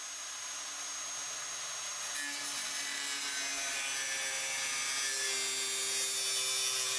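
A power tool cuts plastic while trimming the fender skirt to fit a Tactical Rovers front bumper on a Land Rover LR3, a steady, high, rasping whine that grows gradually louder and never stops, with no talking.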